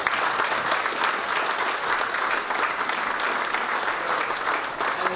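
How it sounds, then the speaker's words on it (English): Sustained audience applause at a railroad depot launch event in Meadville, steady and dense from start to finish with no voices over it. "these guys and gals up here deserve a round of applause for their hard work"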